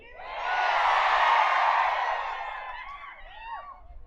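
A large crowd of young people at a rally in Latur roars and cheers, a loud sustained swell of shouting and whooping that slowly fades, with scattered individual whistles and yells toward the end.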